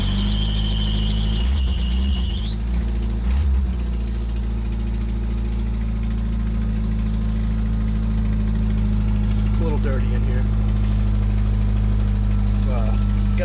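A 1994 Jeep Wrangler YJ, started by push button, settles into a steady loud idle with a deep, even engine rumble, with a high squeal and starter whir at the start and someone talking over it.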